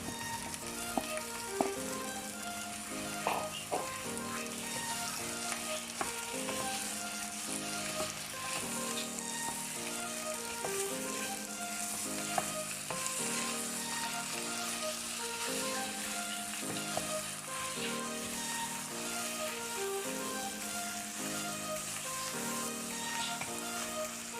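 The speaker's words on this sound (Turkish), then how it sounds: "İki diş sarımsak ekledim. Öyle kavuruyorum." Tomato paste, onion, garlic and pickle fry in a pan with a steady, close sizzle throughout, broken by occasional stirring scrapes; no one speaks.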